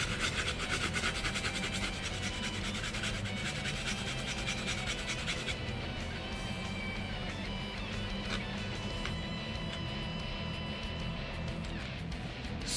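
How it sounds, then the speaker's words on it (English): Fresh ginger being grated for ginger grilled pork, making a continuous close, rapid rasping scrape that holds steady and then softens slightly partway through. "Grate ginger."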